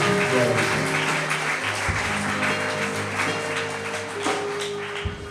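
A church congregation at the Free Methodist church in Fontamara claps warmly and steadily throughout, a dense wash of applause over sustained musical tones.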